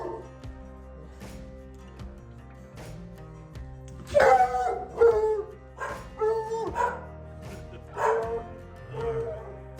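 Belgian Malinois puppies play keep-away over a pig ear in a house, letting out clusters of close, sharp barks and yips with a few whimpers over a low background hum.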